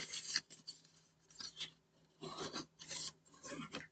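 Edges of a handmade card in a kraft envelope album being burnished, several short dry rasping rubs in quick bursts, close and soft, with no talking.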